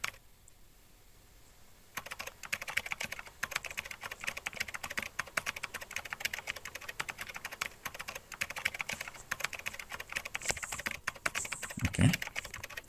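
Rapid close taps of typing Python code on a phone touchscreen in Pydroid 3 keep up a dense irregular patter after a quiet start, with a brief louder knock near the end.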